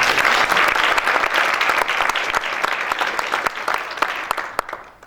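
A warm round of applause at a launch event for a national essay writing competition against racism: dense, steady clapping from a sizeable audience, loud and continuous, tapering off toward the end.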